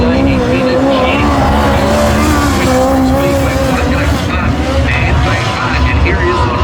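A midget race car laps a speedway track in qualifying, its engine a loud, continuous high drone rising and falling as it circles, with a voice talking over it.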